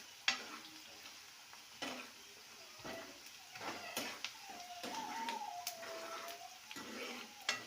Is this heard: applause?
no